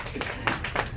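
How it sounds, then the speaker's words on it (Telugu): Audience members clap at a press meet for a film's opening: a few scattered, fairly soft claps come in separate bursts over about a second, against a quiet room. "క్లాప్స్."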